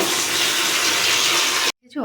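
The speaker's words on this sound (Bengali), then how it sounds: "চলো জল ভরে নিই।" Water pours steadily from a tap into a bucket, a dense continuous gush that cuts off abruptly near the end, followed by a brief voice.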